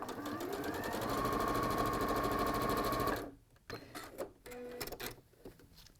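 A sewing machine runs in one steady, loud burst of rapid stitching along a quarter inch seam for about three seconds, then stops, leaving faint clicks and handling noises.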